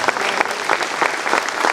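Church congregation clapping together in sustained, dense applause at a service in Guarulhos, a steady loud wash of hands filling the whole moment with no talking over it.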